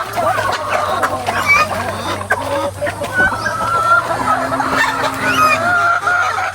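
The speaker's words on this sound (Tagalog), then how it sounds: "Malakas yung kumain yung gansa o." Geese feeding on azolla with a steady wet dabbling, pecking noise, mixed with clucks and occasional honks from the flock nearby on a farm.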